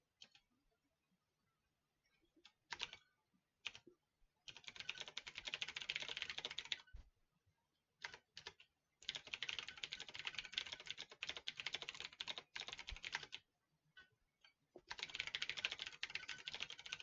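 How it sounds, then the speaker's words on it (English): Computer keyboard typing comes in bursts of rapid, close key clatter. Short quiet gaps separate the flurries, and the keys are clear and crisp with no talking. "Typing some commentary, more or less."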